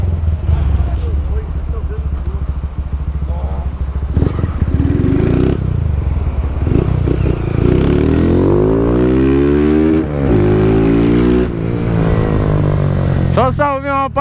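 Honda Titan 160 motorcycle engine revving up and down close by, with rising and falling pitch sweeps between gear shifts during a delivery ride, continuous and loud while someone talks over it.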